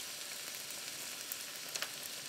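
Artichokes fry in a non-stick frying pan, giving a quiet, even sizzle throughout, with a couple of light stirring clicks near the end.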